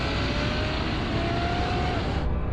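A sports car in third gear, sports mode, accelerates hard from 80 km/h in a drag race. The engine roars loudly and continuously, its pitch slowly climbing before the sound cuts off abruptly.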